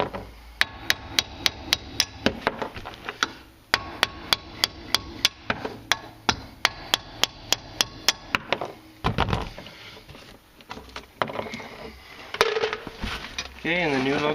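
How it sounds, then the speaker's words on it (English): A hammer strikes out the lug bolts of a 2004 Polaris Sportsman 500 ATV wheel, sharp metallic blows in quick rhythmic runs with short pauses, close and loud, followed by clanking handling and a voice near the end. "so I'm just going to hit them out with a hammer"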